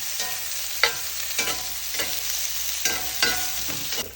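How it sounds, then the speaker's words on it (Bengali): Onions fry in a hot pan, a steady bright sizzle broken every half second or so by the scrape of a spoon stirring them, close and loud, with no talking. "আপনারা এই পেঁয়াজটা মিনিট পাঁচেক ভাজবেন"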